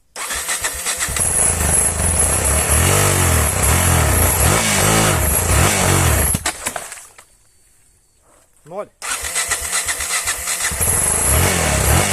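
A Yamaha motorcycle engine cranks over and over without catching, giving loud, close, rhythmic starter churning that stops for about two seconds and then starts again.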